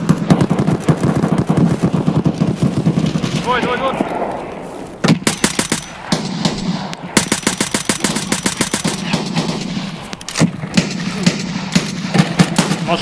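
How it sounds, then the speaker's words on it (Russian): Gunfire in the game Escape from Tarkov: loud rapid automatic bursts crack in dense volleys, pausing briefly before resuming in long strings, with voices talking between and over the shots. "У нас сзади между скал кто-то стреляет."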